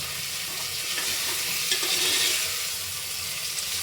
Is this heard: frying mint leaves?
yes